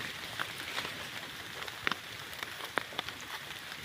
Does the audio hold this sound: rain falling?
yes